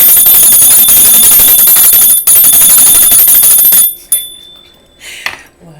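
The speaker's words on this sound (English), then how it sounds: "I got this bell." A bell rung in a room, its bright high ringing sustained loud and continuous for about four seconds, then a few faint, scattered strikes trailing off.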